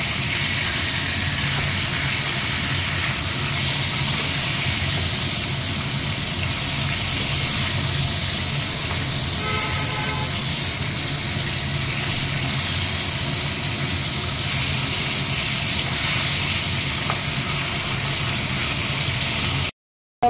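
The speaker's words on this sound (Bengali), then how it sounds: "এক পিস ভাজা হয়ে গেছে, আর একটু ভাজছি।" Rui fish pieces fry in hot oil in a home kitchen, giving a continuous, even sizzling hiss at close range with no talking, cutting off abruptly at the end.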